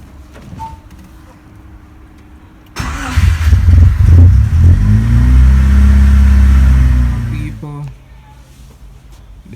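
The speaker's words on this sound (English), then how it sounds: "Well, we're gonna start the car again." A 1996 Honda Integra DC1/2 under restoration cranks and fires up close by, its engine running with rising and falling revs for about five seconds before cutting out; someone talks briefly before and after.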